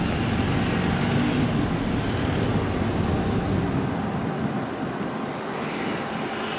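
U.S. hydraulic glass outdoor elevator with a single in-ground jack rising at Rockville Town Center, a loud steady broadband drone of motor and outdoor rush that continues throughout, easing slightly toward the end.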